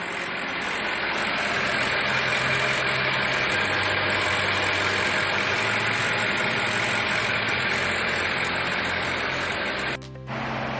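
A 2019 BMW M5 engine idles steadily with a smooth, constant hum close by, then cuts out briefly near the end.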